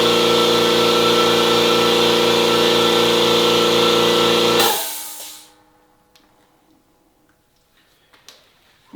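A Stealth Silent 20-gallon air compressor runs with a steady, loud motor drone that cuts off abruptly at about halfway. The tail ends in near silence with a few faint clicks.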